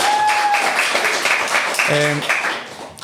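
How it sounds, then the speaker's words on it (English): Audience applause at a talk on AI filmmaking, a dense wash of clapping throughout that fades at the end, with voices mixed in. "you can give a claps for Didi on this amazing"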